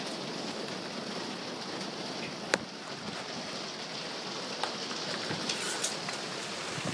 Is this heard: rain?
yes